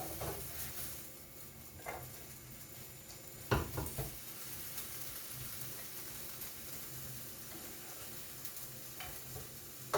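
Ground turkey and onions fry in a pan with a soft, continuous sizzle, broken by a few clicks and scrapes of stirring, quiet and close.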